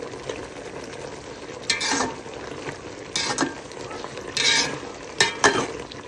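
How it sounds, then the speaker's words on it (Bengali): A spoon scrapes and stirs okra and shrimp curry in a pan, several distinct scraping strokes over a soft sizzle, close and clear with no talk. "ঢাকনাটা সরিয়ে কিছুক্ষণ পর এখানে আর একটু নেড়ে চেড়ে দিতেছি"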